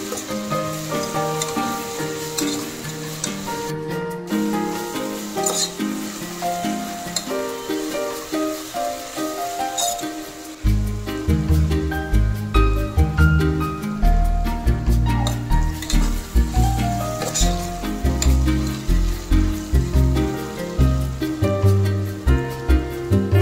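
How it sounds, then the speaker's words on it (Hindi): Onions frying in a pan until light brown for dum ka gosht, a loud continuous sizzle and crackle that grows heavier and denser about halfway through, with rhythmic stirring pulses throughout. "प्याज लाइट ब्राउन हो गई है और अच्छे से फ्राई हो चुकी है"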